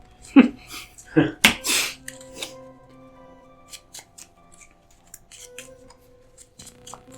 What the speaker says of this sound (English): Really hard to shuffle just a couple of cards.